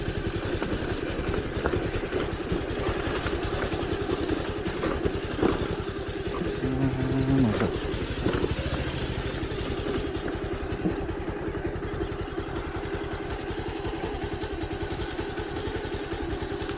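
Motorcycle engine idling steadily close by, a continuous low rumbling clatter that stays even for the whole stretch, with faint outdoor background and no talking.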